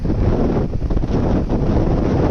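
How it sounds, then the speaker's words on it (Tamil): Strong wind blows at the seashore during fishing, buffeting the microphone with a loud, constant roar and rumble and no speech. "காற்று சரியான காற்றுல நிற்கிது"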